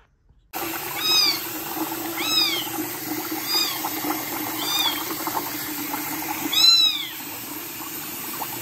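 A young stray kitten, eyes not yet open, meows five times, thin high cries spaced about a second apart, the last one loudest, over a faint steady hum.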